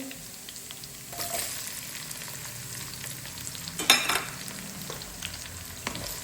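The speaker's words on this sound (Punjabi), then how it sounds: "ਲਸਣ ਆਪਣਾ ਇਹਦੇ ਵਿੱਚ ਪਿਆਜ਼ ਐਡ ਕਰਾਂਗੇ" Onions tossed into a pan of browning garlic fry with a steady close sizzle, broken by a few brief stirring scrapes and one louder clatter near the middle; no one speaks.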